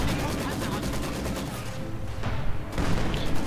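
Rifle grenades and gunfire in a Men of War battle: dense rattling small-arms fire and thudding blasts fill the clip, with a brief lull in the middle before the shooting picks back up, loud and continuous.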